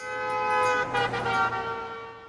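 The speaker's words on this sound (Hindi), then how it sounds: "हॉर्न बजा के पू पू" A car horn sounds with a steady tonal blare and a couple of quick toots, loud and sustained over road noise.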